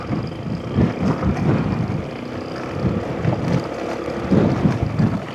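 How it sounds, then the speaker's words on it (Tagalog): Steady wind rushes and buffets against the microphone while riding a Honda ADV 160 scooter, a loud continuous roar with gusty swells and low rumble throughout. "Sinalubong po tayo ng hangin."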